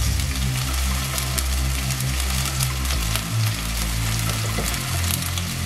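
Tomato sauce sizzling and spitting as it hits a hot pan where chili sauce has already gone in, a steady, dense frying crackle sounding close and continuous, with a low hum running underneath.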